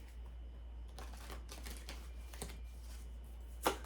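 Soft papery riffling and quick flicks of tarot cards, a few brief bursts of shuffling over a quiet background, with one sharper snap near the end.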